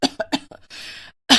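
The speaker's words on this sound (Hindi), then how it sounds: "वो खांस रही थी।" A woman coughs in a quick run of short, dry bursts close up, then gives a breathy rasp and one more harsh cough after a brief pause.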